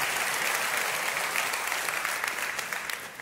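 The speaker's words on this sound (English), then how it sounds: "Give them a round of applause" An audience applauds at a Life Fellowship gathering, a dense, steady wash of many hands clapping close by for just over three seconds, easing slightly toward the end, with no voices over it.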